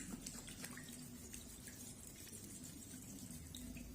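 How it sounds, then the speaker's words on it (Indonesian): Hands washed with soap under a running tap, a faint, steady flow of water with small splashes and drips, no voices. "cuci tangan dengan 7 langkah cuci tangan"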